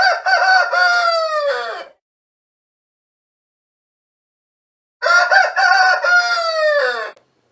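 A rooster gives two loud, close cock-a-doodle-doo crows, each lasting about two seconds, with silence between them.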